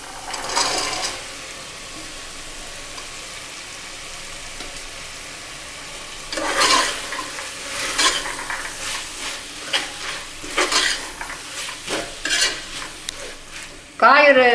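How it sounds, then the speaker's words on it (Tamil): Chopped vegetables sautéing in a pressure cooker for vegetable biryani, with a soft sizzle under bursts of scraping stirring strokes, then a sharp metallic clatter at the end. "காய் ஒரு 5 நிமிஷம் அப்படியே வதங்கிட்டுங்க"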